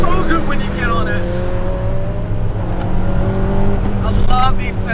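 A Honda Civic Type R EP3 with a K20 engine revving loudly from inside the car, engine tone climbing in pitch over several seconds, with someone talking over it.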